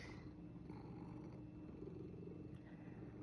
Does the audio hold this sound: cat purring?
yes